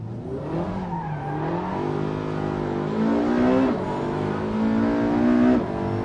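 A hybrid race car accelerates hard, its engine note climbing steadily through the revs and then dropping back briefly at a gear change before rising again. It stays loud and continuous, heard from inside the car.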